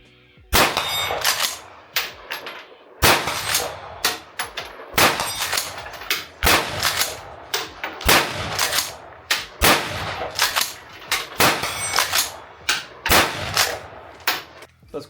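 A Wedgetail MPR Mini .223 rifle fires repeatedly at a farm range, each sharp crack followed by the ringing clang of a hit on a steel target, about a dozen shots in a quick, fairly regular rhythm.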